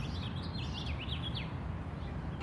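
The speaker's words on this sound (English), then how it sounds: "Seems to be a major house finch hotspot." House finches sing among London plane trees by the Barnes Foundation, their thin, warbling notes faint and somewhat distant over a constant roar of city traffic.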